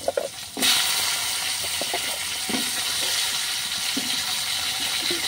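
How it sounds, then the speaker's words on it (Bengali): Potatoes tipped into a pan of fried spices set off a sudden loud sizzle that holds steady as a broad hiss, with occasional soft clinks and stirring sounds underneath. "মশলাগুলো ভাজা হয়ে যাওয়ার পর এর মধ্যে আলুগুলো আমি দিয়ে দিচ্ছি"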